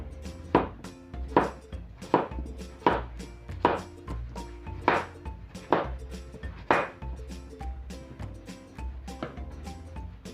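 A knife cuts zucchini into half moons on a cutting board for caldo tlalpeño, about a dozen crisp, evenly spaced chops, close and distinct, with a faint musical bed beneath.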